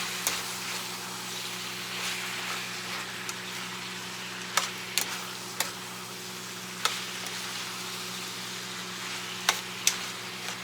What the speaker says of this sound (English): We're gonna mix it up really good.